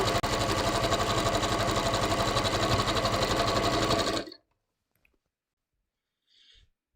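A home sewing machine stitches steadily through knit fabric for about four seconds, a loud continuous close-up whir, then stops abruptly, leaving near silence with a couple of faint handling sounds.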